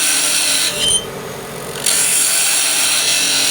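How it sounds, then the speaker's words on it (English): A purpleheart BBQ handle spins on a wood lathe at high speed during spindle turning, with a steady, loud whirring rasp as the tool cuts. The sound dips briefly near the middle of the clip, then returns stronger. "I'm going to bring the speed way up since it's spindle turning and it's small"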